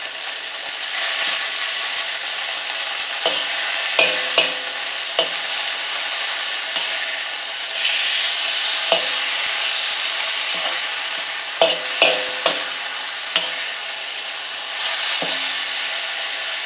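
Egg with black soy sauce fries over high heat, a loud, constant hissing sizzle broken by repeated scraping stirs and clanks of a utensil on the pan, close up with no voices.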